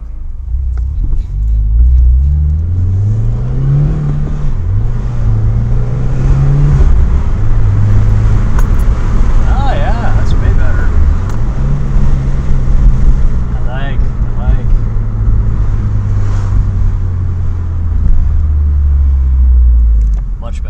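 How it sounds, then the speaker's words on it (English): A Subaru WRX engine drones loudly, its pitch climbing, dropping with a shift into second gear, then climbing again under the cabin rumble, with a voice talking briefly. "See that second gear transition?"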